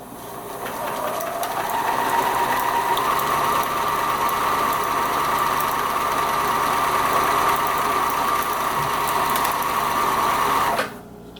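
A sewing machine stitching buttonholes on a Halloween bat vest, a steady loud whirring run lasting about ten seconds before stopping abruptly.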